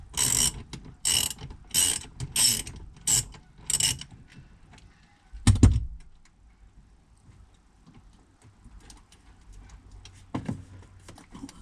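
A ratchet with a 10mm socket loosens the negative terminal on the 12V battery of a 2013 Toyota Estima Hybrid AHR20, giving several bursts of rapid clicking close up. A single clunk and faint handling noises follow.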